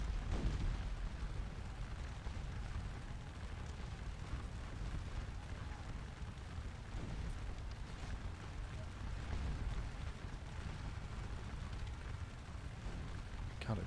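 Cannon fire rumbles in Scourge of War: Waterloo at La Haye Sainte, a dense, continuous roll of distant booms with scattered sharper thumps, unbroken for the whole stretch.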